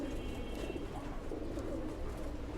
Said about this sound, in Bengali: এটা গিরিবাজি কবুতর